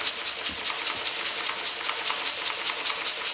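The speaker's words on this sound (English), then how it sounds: "steam engine." Small model steam engine running as it drives a pulley, flywheel and a 90-degree shaft transfer, heard as a fast, even, hissing chuff repeating about three times per second close by.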